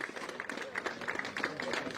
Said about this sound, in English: here he is receiving a round of applause from the fans around us